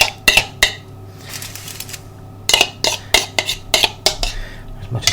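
A metal spoon scrapes sticky marinade from a bowl onto lamb ribs, sharp clinks and scrapes in uneven bursts close by, with brief pauses between strokes.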